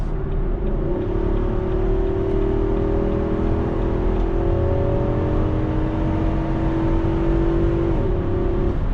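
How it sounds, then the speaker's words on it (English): A 2021 Nissan Armada V8 at full throttle gives a sustained, steadily rising engine drone heard from inside, loud and continuous for several seconds with no speech over it. "That has got to be one of the best sounding V8s ever."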